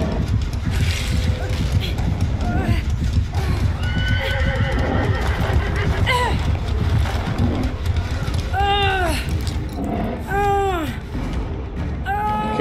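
In the video game Dead by Daylight, hooves clip-clop at a rapid gallop under gusty wind while a horse lets out several sharp whinnies toward the end; voices talk over it.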